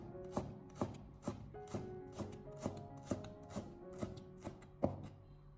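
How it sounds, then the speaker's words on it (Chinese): A knife chops scallion whites into small rings on a cutting board, about eleven crisp, evenly spaced taps with a woody knock, close and fairly quiet with no voices. "把它改刀切成小葱花。"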